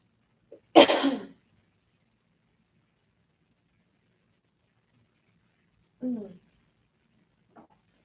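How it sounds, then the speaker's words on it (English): A loud, close cough bursts out, followed by a second softer cough several seconds later and a faint brief sound near the end, with silence between. "Normally I'm not coughing, just so you know."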